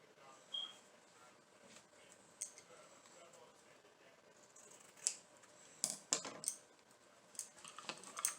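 Scissors trim craft leaves for fall decor, with faint snips at first and then a cluster of sharp, close cuts, all in a quiet room.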